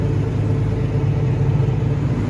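A John Deere 8870 tractor engine drones while pulling a 7-shank Wilrich tillage implement in a field, a loud steady low rumble heard from inside the cab with no talk.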